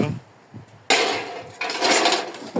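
Steel frying pan tossed onto scrap metal from rubbish bags, a metallic clatter and rattle starting abruptly and then swelling louder, close by with scraping and knocking among the pile.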